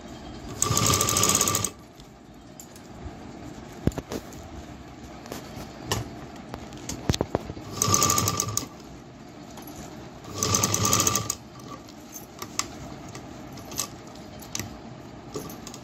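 A sewing machine runs in three bursts of straight stitching as fabric panels for a sock and handkerchief organizer are joined. Each steady whir lasts one to two seconds and is close and fairly loud, with quiet handling noises in between.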